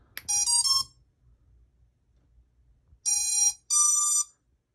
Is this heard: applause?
no